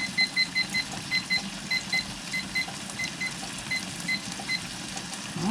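A kitchen timer beeps while being set, giving a run of short, high electronic chirps in uneven groups over quiet kitchen background noise.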